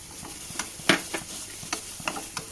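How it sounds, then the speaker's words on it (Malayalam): Cashews roast in a pan with golden-fried onions for a caramel rava porridge Iftar dish, with a soft steady sizzle broken by several sharp scraping stirs of a spoon against the pan. "ഇതിലേക്ക് നമുക്കിനി കുറച്ച് അണ്ടിപ്പരിപ്പ് ഇട്ട് കൊടുക്കുന്നുണ്ട് ഇതൊന്ന് റോസ്റ്റ് ചെയ്തെടുക്കുക"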